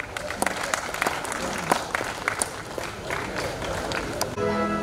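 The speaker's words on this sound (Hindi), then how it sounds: "भरपूर तालियों के बीच स्वागत कीजिए" An audience at a cultural night gala applauds to welcome a speaker, with mixed clapping and crowd noise, some voices and sharp accents mixed in, ending in a short louder burst.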